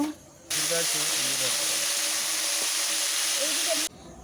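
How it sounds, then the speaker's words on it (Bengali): Washed potatoes hit hot oil seasoned with panch phoron and dried chillies, setting off a loud, steady hiss and sizzle that runs close for several seconds before cutting off sharply. "দিলাম ধুয়ে রাখা আলু আলু নাড়াচাড়া করে ভেজে নেব"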